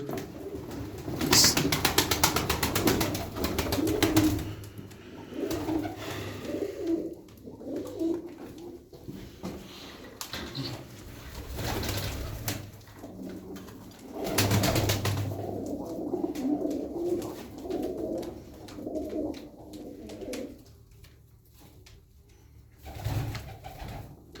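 Tumbler pigeons coo repeatedly in soft, throaty bursts, some close and some farther off, with brief quiet gaps between the calls.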